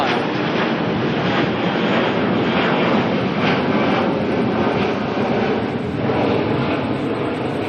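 An airliner climbing out steeply from Auckland Airport, its loud, close jet engine roar filling the whole stretch as a continuous dense rush with slight wind buffeting.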